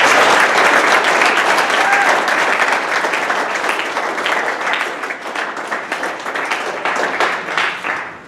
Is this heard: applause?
yes